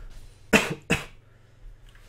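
Two quick, sharp coughs sound close together against faint background noise during a solo-queue online game.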